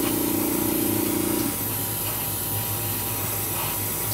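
A wet coat of metallic model paint is sprayed onto a P-47 model fuselage, giving a steady close airbrush hiss that runs loudly for about a second and a half and then stops, leaving a faint background hum.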